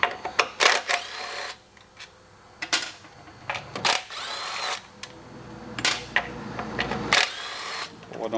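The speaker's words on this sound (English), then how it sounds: "So take your 4 screws, 10mm screws off." Power tool spinning out the four 10mm cover screws on a Kawasaki Teryx, giving several short whirring bursts separated by pauses, close and fairly loud, with some handling noise between them.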